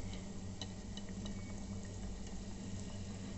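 Cauliflower pieces frying in oil inside an electric kettle, giving a steady dense bubbling hiss with scattered small pops and ticks, continuous and close at low volume.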